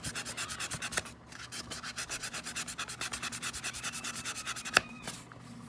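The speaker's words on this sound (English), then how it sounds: "I'm going to do a light sanding over my" Light sanding over a decal on a popsocket coated with Crystalac gives rapid, even back-and-forth rubbing strokes, close and steady in rhythm, with one sharper scrape near the end and no talking.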